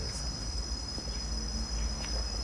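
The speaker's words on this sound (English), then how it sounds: "the cicada beetles that have just come out now are just adding that extra little bit of ambiance" Cicadas drone steadily in a jungle sculpture garden, a continuous high shrill hum that holds for the whole stretch at moderate level with faint low rumble beneath.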